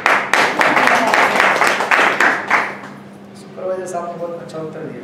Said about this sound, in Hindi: क्या बात है, तालियां।